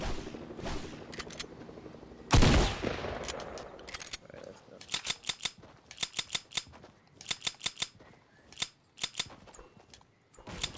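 A submachine gun fires in a video game duos match, rapid bursts of rattling shots repeating in quick clusters after a louder blast, with a player's voice talking over the action.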